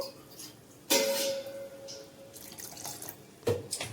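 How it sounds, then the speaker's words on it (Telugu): Water is poured into a grinder jar while dosa batter made with potatoes is being prepared, giving a brief splashing burst near the start and another short splash near the end, alone without talk. "ఇప్పుడు ఇంకా దీంట్లో నేను కొద్దిగా వాటర్ అనేది యాడ్ చేస్తున్నాను."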